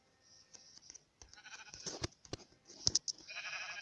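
Minecraft sheep bleat several times in quick, uneven succession, thin game-like calls with soft clicks between them, no talking.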